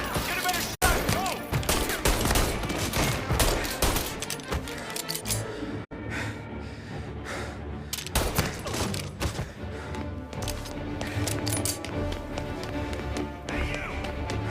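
Dense gunfire in the Mafia Definitive Edition video game, with rapid overlapping shots and loud bursts running continuously under a thick game soundtrack throughout.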